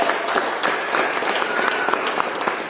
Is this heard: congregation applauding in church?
yes